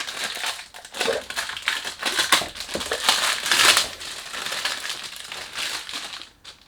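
Continuous loud crinkling and crushing of packaging while unboxing a fragrance box, close up, with bursts of rustling and crackling that rise and fall for several seconds.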